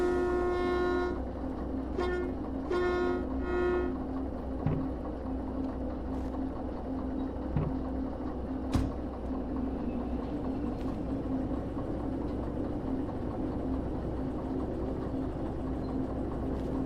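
A game locomotive in Derail Valley rumbles steadily throughout, with a few short horn blasts near the start and occasional clanks over the continuous engine and rail noise.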